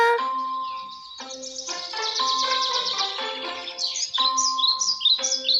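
A goldfinch sings a bright, twittering song of rapid chirps and trills, close and clear, repeated in short phrases over a sustained tonal background.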